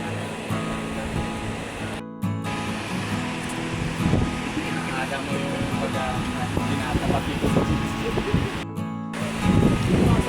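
Steady wind gusts rush and buffet the microphone near the shore, with a faint wash of surf and a voice speaking intermittently beneath the roar.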